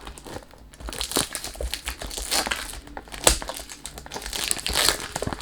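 Cellophane and cardboard packaging of a Police Frozen men's perfume box crinkle and crackle nearby in irregular bursts during unboxing, with sharper crunches mixed in and no speech.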